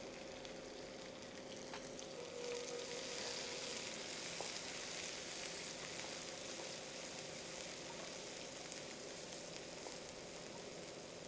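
Small shallots dropped into a hot tempering of oil for Chettinad mutton gravy, a steady dense sizzle and crackle close up, continuous and even throughout with no talk.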